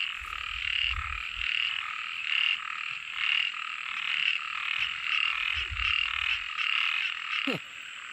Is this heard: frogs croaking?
yes